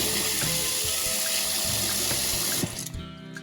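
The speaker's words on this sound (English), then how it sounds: "On va couvrir d'eau." Water runs from a tap into a pan over potatoes in a kitchen, a steady splashing gush that cuts off near the end, leaving faint drips.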